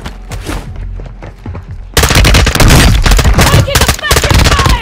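Bursts of automatic machine gun fire in a military shooter game played as an M16 and chopper duo, starting quieter with scattered shots, then erupting into loud, dense, sustained rattling gunfire.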